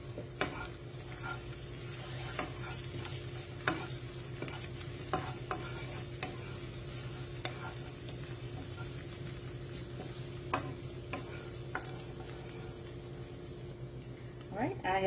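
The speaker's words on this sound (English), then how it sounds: "I have let my garlic and my basil and my shallots cook for about 2 minutes" Sliced garlic, basil and shallots sizzle in a pan with a steady crackling hiss, broken by repeated sharp clacks of a utensil stirring against the pan.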